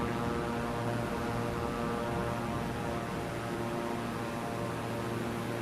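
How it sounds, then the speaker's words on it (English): An airplane takes off on an African route toward N'zeto, its engine and propeller producing a steady, droning hum with a broad wash of noise throughout, faint and without speech. "There we are, we're taking off."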